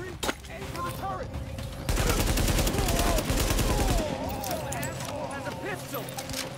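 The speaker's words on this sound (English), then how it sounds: "is that a gunshot?" Heavy gunfire in Tom Clancy's The Division, a loud sustained burst of rapid shots after an earlier lone report, with a voice talking over parts of it.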